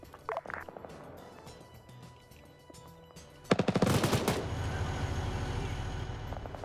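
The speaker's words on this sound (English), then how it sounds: "Now we have the BTR shooting at him." Sustained automatic cannon fire from a BTR armored vehicle in a military video game erupts after a few scattered sharp shots, dense rapid bursts that stay loud and rolling to the end.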